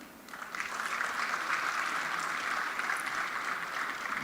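An audience applauds at the Africa Gaming Expo 2026, a steady, even wash of clapping that swells in after a quiet start and holds at a moderate, somewhat distant level.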